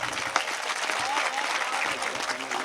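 A seated audience at a Hindi poetry recital claps steadily, a dense and even wash of applause that carries on without any break.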